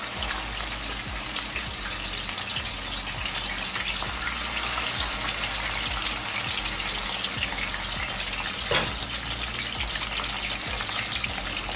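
Marinated fish frying in hot oil in a pot: a steady, dense sizzle and crackle with occasional louder pops, continuous throughout with no talk.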